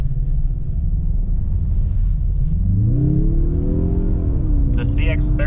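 A 2023 Mazda CX-30 Turbo Premium with the Skyactiv-G turbo engine accelerates from a steady low rumble into a rising, whirring rev during a 0-60 run, heard from inside the cabin, with brief voice sounds near the end.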